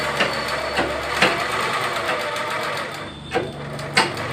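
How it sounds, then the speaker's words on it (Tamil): A sewing machine stitches the lining of a blouse with a steady, close mechanical whirr, broken by a few soft knocks as the fabric is shifted. "தையல் வந்து கரெக்டாக போட்டுக்கிறோம்"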